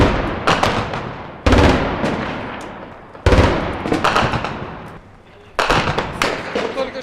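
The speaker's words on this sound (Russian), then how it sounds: "Что рядом с нами попал выстрел из РПГ." During urban combat in Jobar, Syria, a shell from a B-10 recoilless gun hits nearby. It comes as several loud, sharp blasts and bursts of gunfire over a few seconds, with brief voices in the mix.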